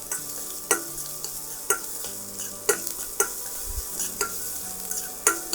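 Chopped onions and ginger sweat with salt in a pan, giving a soft, low sizzle under a regular series of spoon taps and stirs against the pan about once a second.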